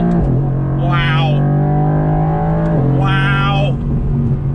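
A 2020 Mercedes-Benz AMG GT R engine accelerates hard from inside the cabin, a loud continuous roar rising in pitch through two gear pulls with a shift between them, with a voice speaking over it.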